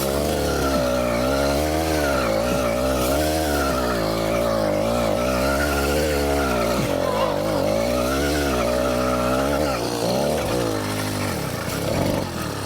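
A motorized mountain bike on massive off-road tyres revs hard and skids, its engine whining up and down in pitch through repeated throttle bursts, loud and close, with tyre scrubbing underneath.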